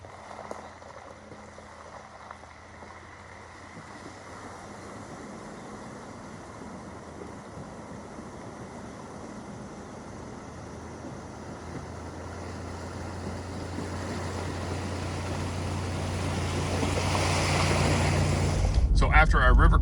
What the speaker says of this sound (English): So I found another water crossing.